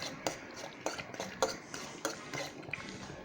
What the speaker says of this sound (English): Take a fork and stir that baby around